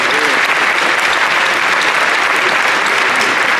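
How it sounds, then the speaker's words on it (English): An audience at an event center grand opening applauds the staff, a loud, dense and unbroken wash of clapping that holds at full strength throughout. "Let's give them a round of applause."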